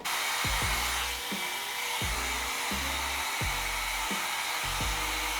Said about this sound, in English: And then we are going to blow dry the hair in this direction.